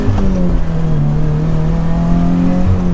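A turbocharged Subaru BRZ pulls away at quarter throttle, its engine a close, steady, droning hum that rises gently in pitch over a few seconds.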